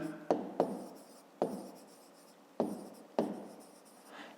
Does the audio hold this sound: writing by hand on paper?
yes